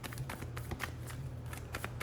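Tarot cards shuffled and handled in quick succession, a steady run of soft riffling flicks and snaps over a low background hum, close and fairly quiet, with no talking.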